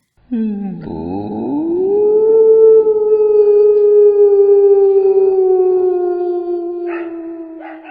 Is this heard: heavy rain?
no